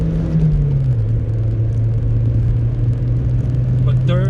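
Toyota MR2 engine droning steadily under load as the car pulls through the gears, a loud close in-cabin rumble with the pitch dipping briefly at a shift and then holding.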